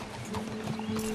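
Hoofbeats of a horse being ridden in Red Dead Redemption 2, a quick run of clip-clop steps over outdoor ambience, close and moderately loud with no talking.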